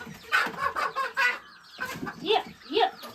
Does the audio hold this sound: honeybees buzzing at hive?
no